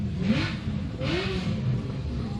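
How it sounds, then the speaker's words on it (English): Car engine revving in two rising bursts, moderately distant, over a steady low background rumble, at a RADwood UK car show at Bicester Heritage. "Someone's revving over there."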